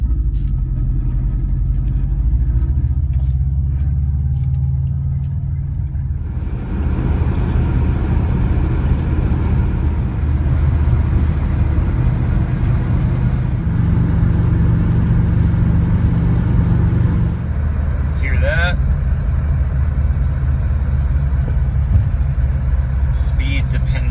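A car on a 1,000-mile test drive in the early morning gives a steady, loud low road rumble and engine drone throughout, with tire and wind noise shifting partway through and a brief high chirp near the end.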